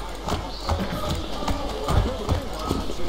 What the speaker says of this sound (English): the horses in this game are way better than the horses in Assassin's Creed Odyssey